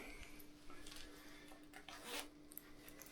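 A zipper on a second-hand Hugo Boss regular fit cotton garment is worked back and forth: quiet, close rasping zip strokes in short bursts, one slightly louder, with no talking.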